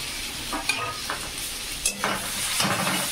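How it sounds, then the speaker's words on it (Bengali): A spoon stirs and scrapes a ground spice paste of turmeric, ginger-garlic, chili powder, meat masala, cumin and pepper frying in a pan for soybean curry, giving a bright sizzle broken by a few clattering strokes, close and loud, with no talking. "একটু হালকা জল দিয়ে নাড়বেন, নালে তলাটা মশলাটা পুড়ে যাবে।"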